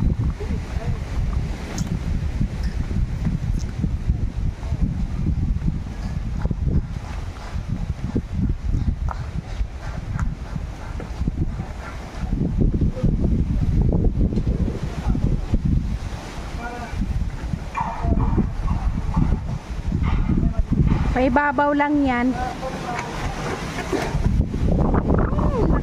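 Strong wind roars continuously outdoors by a hut, gusting and buffeting the microphone throughout while people talk over it.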